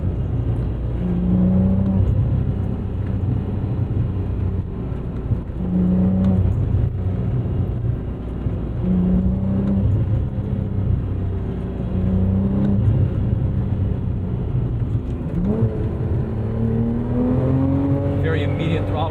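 A 2012 Porsche 987.2 Cayman R engine accelerates with a strong, steady drone whose note climbs toward the end, while someone talks over it.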